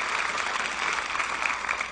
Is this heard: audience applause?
yes